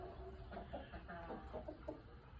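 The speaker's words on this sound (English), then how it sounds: "They're very big, pretty roosters, but we're not going to keep 5 roosters for any reason." Several large roosters cluck in soft, quick bursts, fairly faint and close-ish, with steady background noise and no talk.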